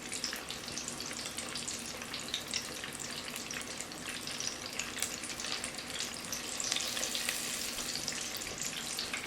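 Corn deep frying in a pot of oil inside a pressure cooker pot, a steady close sizzle with dense crackling bubbles that swells slightly near the end, with no talk.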